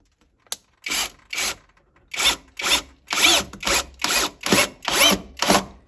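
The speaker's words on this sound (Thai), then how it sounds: "ถ้าเจอสกูชิดๆแบบนี้ก็ทำงานสะดวกครับ ไม่ว่าจะขันเข้าหรือว่าถอน ออก" A MASARU drill with a screwdriver bit drives screws in and out of closely spaced holes, giving about ten short whirring bursts in a fast, regular rhythm, close and loud, with one sharp click near the start.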